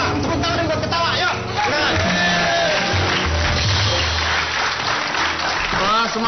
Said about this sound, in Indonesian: Tepuk tangan buat ketawa